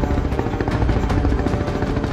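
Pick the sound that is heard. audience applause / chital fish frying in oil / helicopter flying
helicopter flying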